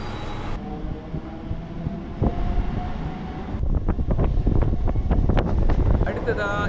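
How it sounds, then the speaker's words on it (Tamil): A Chennai electric EMU suburban train runs at night toward Saidapet station after Guindy, a rumbling rolling noise with rattling and clanks that grow busier partway through as the train works into the stop. "கிண்டிக்கு அடுத்ததாக இப்போ ட்ரெயின் நிற்கிறது சைதாப்பேட்."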